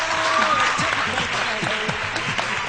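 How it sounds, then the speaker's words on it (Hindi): A morning-show studio audience claps to welcome a guest stylist and makeup artist, giving a short burst of steady applause with a voice partly audible over it. "बहुत सारी तालियां होनी चाहिए।"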